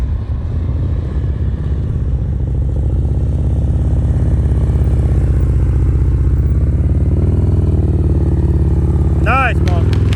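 Low, steady motorcycle engine rumble during slow-speed riding practice around cones, idling and gently varying, with people talking over it and a brief clatter near the end.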